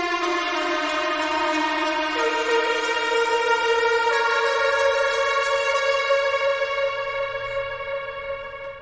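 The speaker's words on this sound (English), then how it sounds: "And now we move into this cool little arp" A synth arpeggio played on a lead preset with reverb and delay, bright stacked tones stepping between pitches in a repeating pattern, loud and alone, trailing off as the echoes fade near the end.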